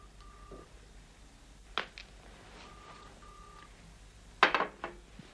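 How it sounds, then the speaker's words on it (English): A telephone is dialed to place a call in a quiet 1970s-style interior, a few soft tones and beeps sounding in short bursts, punctuated by sharper clicks or handset clatter near the end. "But I must make a phone call."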